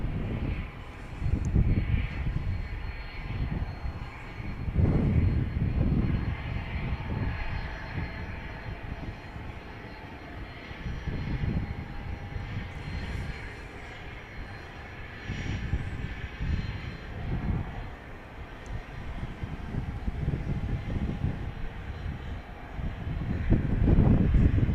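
A Southwest jet airliner takes off from Dallas Love Field, a long, low engine roar that rises and falls with gusty rumbling surges, heard outdoors at a distance with no talking.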